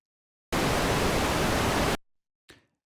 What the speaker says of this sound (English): It's constant noise because we're not going through an envelope